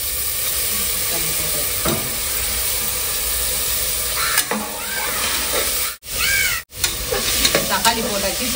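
Tomatoes fry in a pressure cooker pan over ginger-garlic paste for a village-style chicken feet dish, a steady loud sizzle broken by scraping stirs and a few clinks, with two brief dropouts near the end.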